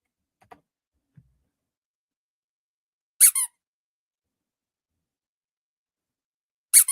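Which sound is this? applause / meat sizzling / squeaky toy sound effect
squeaky toy sound effect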